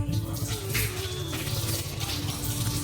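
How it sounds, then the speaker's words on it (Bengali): Cut pieces of raw, unpeeled pumpkin are washed in water, giving a steady, close wash of running and splashing water that continues throughout without any talking. "এখন বর্তমান কুমড়াটা কেটে ধুয়ে নিচ্ছি"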